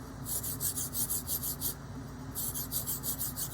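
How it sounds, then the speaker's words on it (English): Charcoal point rubbed against sandpaper in quick, even back-and-forth strokes, a close, dry rasping run that pauses briefly and resumes, with no talk. "sandpaper and shaving off the point are really what you need to do"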